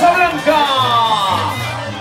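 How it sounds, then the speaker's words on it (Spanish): Rodeo crowd at a charreada in a lienzo charro in Krum, Texas, cheering and whooping loudly in a brief burst, with rising shouts and excited voices close by. "brindan el aplauso del público."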